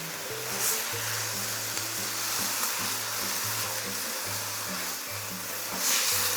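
Meat, bell peppers and tomatoes frying in a pan, a steady close sizzle with scraping stirring strokes and a low rhythmic hum underneath, with no talking.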